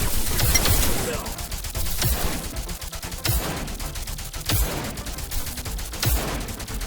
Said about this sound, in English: All units stop firing. All units hold fire.